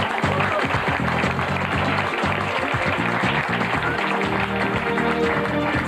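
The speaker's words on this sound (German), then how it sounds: "Applaus, das ist sie, Andrea." Studio audience applause greets a contestant on a Swiss TV singles show from 2003, a dense, steady clapping wash that continues throughout with music playing underneath.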